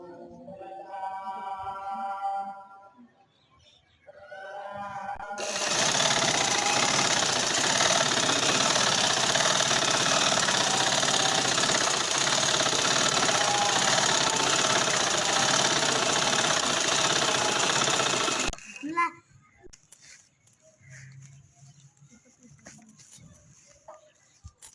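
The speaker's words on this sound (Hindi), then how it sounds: "सिलाई पे सिलाई लगाते हुए तीनों कोनों पे सिलाई लगाऊंगी" A sewing machine stitches the corners of a pillow cover, its motor running as one loud, steady whir for about thirteen seconds. A voice speaks briefly before the machine starts.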